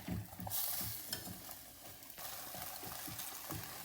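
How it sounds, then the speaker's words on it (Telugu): Stuffed brinjal curry being stirred in a pan, a soft scraping and stirring rhythm over a low continuous sizzle, close and fairly quiet with no voice. "నేను మళ్ళీ ఒకసారి మిక్స్ చేసుకుంటున్నాను."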